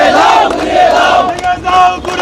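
Protesting students chant slogans in a loud crowd, voices rising and falling together in rhythmic bursts outdoors.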